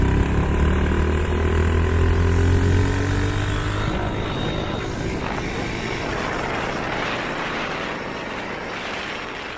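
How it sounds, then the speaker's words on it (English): A dirt bike engine drones steadily while riding, loud and close, with rushing wind noise over a sustained rising and falling engine tone. "This is by me on my dirt bike."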